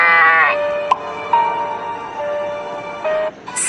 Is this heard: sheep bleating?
yes